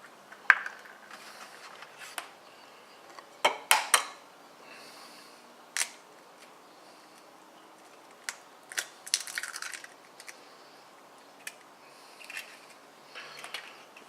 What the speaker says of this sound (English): It's like I've never cracked an egg before.